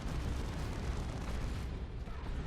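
Dense, muffled battle noise from Ork stick bomb explosions in the video game Dawn of War II Retribution, a continuous low roar of blasts and booms with no distinct single bangs.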